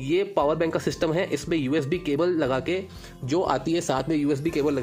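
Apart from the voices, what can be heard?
No everyday noise stands out behind the speech.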